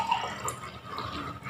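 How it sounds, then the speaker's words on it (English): Water trickles and drips steadily as it is poured into glasses holding coins, a soft continuous splashing at close range with no talking. "So I am going to pour the water."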